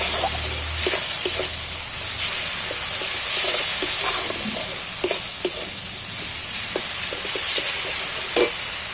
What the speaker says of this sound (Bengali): এবার আমি মশলাটা সম্পূর্ণভাবে কষিয়ে নেব।